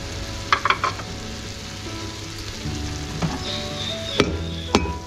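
Spices including garam masala and biryani masala fry with rice for chicken feet yakhni pulao, giving a steady sizzle under occasional sharp spoon clinks and stirring scrapes against the pot.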